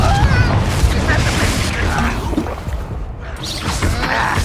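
A Confringo blast spell in the Hogwarts Legacy video game: loud booming, crackling combat noise with a heavy low rumble throughout, dense and continuous with a brief dip near the end.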